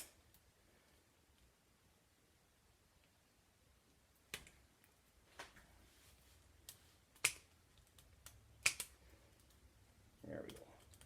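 Poultry shears snip zip ties off a home-cured pancetta: a handful of sharp, separate clicks spread over several seconds against a quiet room, with a voice talking in between.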